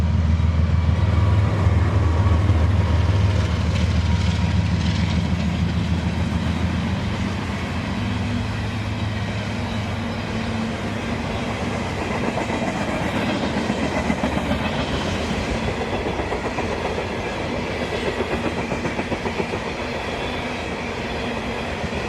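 A long freight train, the Juice Train, rolls past near Wildwood Yard with a heavy locomotive drone at first, then continuous rhythmic wheel clatter and rumble of cars, loud and close throughout.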